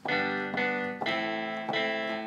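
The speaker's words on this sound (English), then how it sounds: "So that's the sound of a guitar" Clean electric guitar preset in Logic Pro X, triggered from a MIDI keyboard, plays four chord hits about half a second apart. Each one rings out and decays clearly, alone and at moderate volume.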